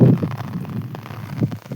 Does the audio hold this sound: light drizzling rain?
yes